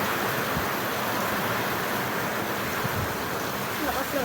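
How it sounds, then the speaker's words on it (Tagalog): Heavy rain falls in a steady, dense hiss that stays even and unbroken throughout, with no other sound standing out. "Lakas ng ulan guys."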